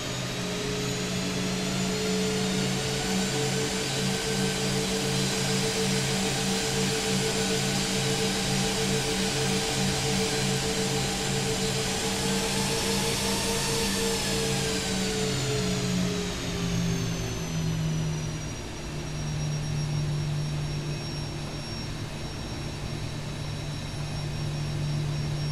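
Boeing 737 jet engines in X-Plane 12 drone steadily through a taxi on a cold Arctic Alaska route, a loud continuous whine with layered tonal hums that rise slightly and then dip as the engine note shifts near the end.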